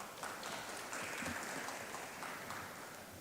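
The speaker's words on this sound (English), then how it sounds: "let's thank the speaker with a warm round of applause" Conference audience applauding after a paper presentation, a steady, dense wash of clapping hands that holds evenly throughout without a break.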